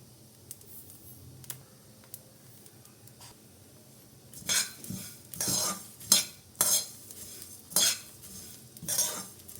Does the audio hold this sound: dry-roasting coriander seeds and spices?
yes